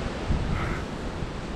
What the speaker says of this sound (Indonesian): Angin kencang banget nih.